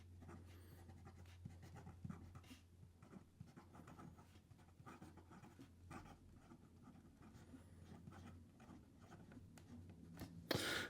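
A fountain pen nib on a Kilk & Galen Leather Celestial Tortoise pen scratches across paper in a steady series of faint, close strokes over quiet room noise, ending with a brief louder rustle.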